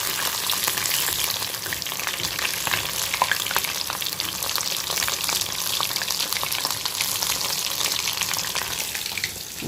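Masala chicken 65 frying in a pan, a loud, dense, continuous crackling sizzle held close and steady throughout, with no voices.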